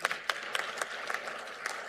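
Sparse, faint applause from a conference audience in a hall, a thin scatter of claps with irregular rhythm and no voices over it.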